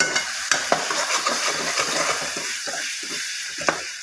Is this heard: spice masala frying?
yes